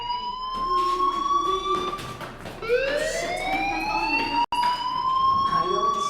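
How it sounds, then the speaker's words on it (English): A school fire alarm sounds in the video game Life is Strange: a loud, continuous electronic wail with rising and falling siren-like sweeps, steady throughout with one brief dropout. "Hey, do you hear that fire alarm?"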